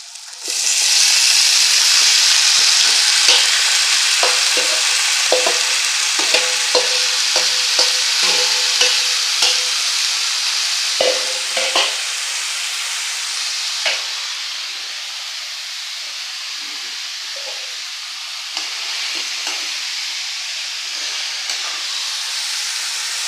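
Onion hisses and crackles as it is stir-fried in a hot pan, a loud, close sizzle with scattered scraping and stirring knocks that settles slightly quieter toward the end.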